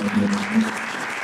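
A church congregation applauding during a worship service, a steady wash of clapping lasting just over a second with a low hum beneath it.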